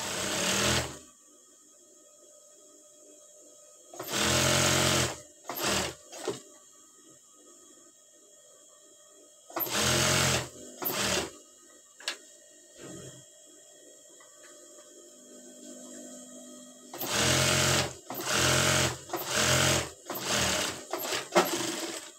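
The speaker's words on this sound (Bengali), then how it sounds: "হাতাটিকে আমি সেলাই করে নিচ্ছি।" A sewing machine stitches a sleeve in several separate bursts, each a few seconds long, with a loud, close, steady whir and quiet pauses between the runs.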